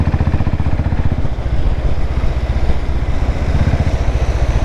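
A Royal Enfield Classic 500 single-cylinder 500 cc motorcycle engine thumps loud and close with a steady low-rpm pulsing beat, held at low revs for torque without spoken words.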